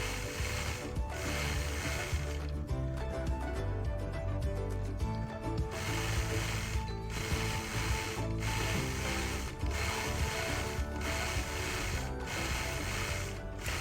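A sewing machine quilts a faux lace border, running steadily with a continuous mechanical whir and rhythmic needle clatter. Short pauses recur every second or so, and no one speaks over it.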